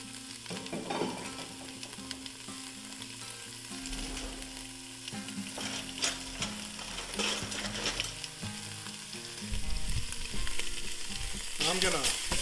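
Bacon sizzles and fries in a pot as the base for Florida spiny lobster chowder, a steady crackling hiss with occasional stirring clatter, close and continuous throughout.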